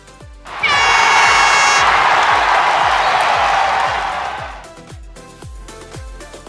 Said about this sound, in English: There was a round of applause.